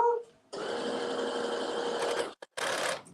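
Sewing machine running steadily as it puts basting stitches into a caftan, a continuous close whirring hum that stops briefly, then starts again for a short final run.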